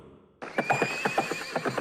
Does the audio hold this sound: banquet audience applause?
no